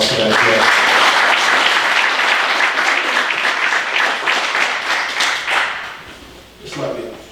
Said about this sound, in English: You guys give Greg a nice round of applause for that.